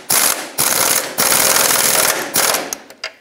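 A hand ratchet tightening the nut on a lower control arm bolt of a 1996-2002 Toyota 4Runner, loud close buzzing clicks in four bursts separated by brief pauses, ending with a couple of short clicks.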